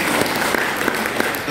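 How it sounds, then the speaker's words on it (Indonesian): Congregation applauding at a Sunday service in a Pentecostal church in Surabaya, a steady dense wash of clapping with a few sharper claps standing out, close and continuous throughout. "Beri tepuk tangan."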